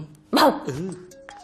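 A person imitates an angry puppy barking, giving one sharp yappy bark followed by a shorter whining yip, close and loud.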